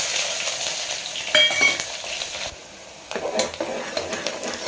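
Onions frying in oil with cumin, cinnamon, cloves and shahjeera for a bottle gourd masala curry, a crackling sizzle broken by brief stirring scrapes and one short quieter pause.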